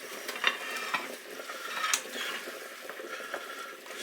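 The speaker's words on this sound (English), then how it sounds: "So now I'm going to go in with all my chops again and all the juice that's come off them." Lamb chops and their juices returned to a pan of garlic and rosemary gravy, a soft steady sizzle with scraping and stirring clicks of a utensil, close and without talk.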